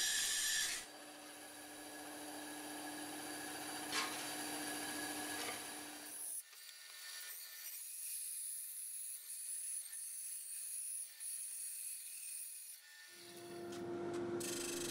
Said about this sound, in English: Quite satisfying cutting out aluminium.